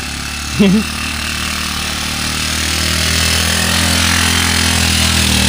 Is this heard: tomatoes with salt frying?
no